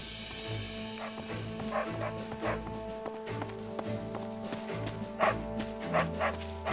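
Dog barking in the video game Fire Emblem Warriors: Three Hopes, with several sharp, fairly loud barks spaced irregularly over steady game music and hoofbeat-like clops.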